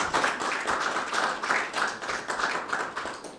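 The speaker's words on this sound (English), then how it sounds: "So I want to give them a round of applause for educating us tonight." An audience in a small community venue applauds a panel, with a modest round of clapping that swells and dips in uneven waves without dying away.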